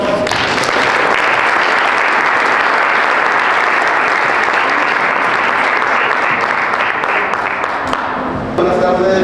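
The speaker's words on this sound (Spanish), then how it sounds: "Démosle un fuerte aplauso a Jorge," An audience at a trading expo in Guadalajara applauds a speaker with loud, sustained clapping that thins near the end as a voice begins.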